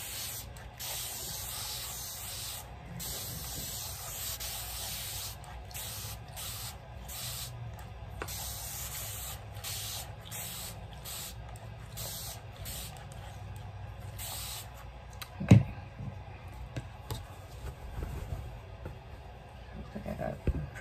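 Soft, repeated hissing bursts of a spray bottle misting Polycrylic onto a 100% cotton shirt for sublimation, close and fairly quiet, with one sharp knock partway through.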